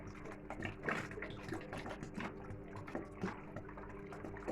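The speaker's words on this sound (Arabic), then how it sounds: "بصوا انا هحط لتر ونص ميه وهيطلع معايا كويس ان شاء الله" Water poured into a cooking pot, about one and a half liters, while making a quick licorice drink; a steady splashing, gurgling pour runs throughout, close and moderately loud with no talk.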